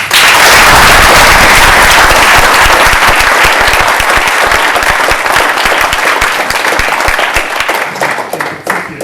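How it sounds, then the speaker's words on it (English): Graduation ceremony audience breaking into loud, dense applause, a crackling roar of many hands that stays strong and starts thinning toward the end. "please, round of applause"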